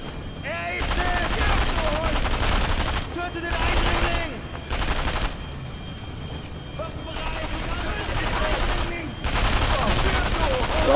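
Rifle and machine-gun fire in the Sniper Elite V2 wartime shooter: long rattling bursts of loud gunfire with short gaps between them, mixed with dense battle noise and music-like tones.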